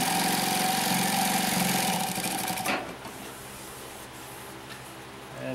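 A Consew P1206RB sewing machine stitching through thick, many-layered fabric with seams: a loud, rapid mechanical chatter for about two and a half seconds that stops abruptly, leaving a faint low hum.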